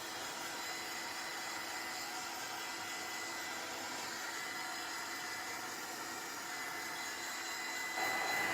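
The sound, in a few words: heat tool drying a craft project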